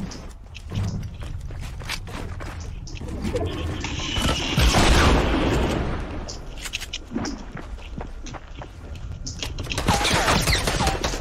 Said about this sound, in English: they have a freaking rocket launcher